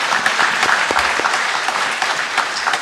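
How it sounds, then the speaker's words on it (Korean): A church congregation at a Sunday service at Garden Presbyterian Church claps in thanks, a close, lively patter of many hands that runs steadily throughout with no talk over it. "우리 감사의 박수 잠깐"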